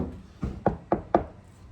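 Four distinct knocks on the sound-deadened hood of a 2026 Tesla Model Y, treated with Resonix CLD, each a dull, damped thud spaced about a quarter second apart, close and fairly quiet with no talking.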